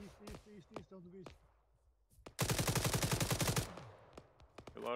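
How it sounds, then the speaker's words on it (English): Automatic gunfire in the military video game Arma 3, a sustained rapid burst of about a second lasting beneath and after brief voices, with a few scattered single shots around it. "Oh god, we're under fire."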